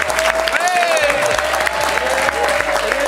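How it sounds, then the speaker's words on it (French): A studio audience applauds a guest arriving on a French talk show, with steady clapping and crowd noise throughout, overlaid by a bright music tone and some voices. "On va l'applaudir."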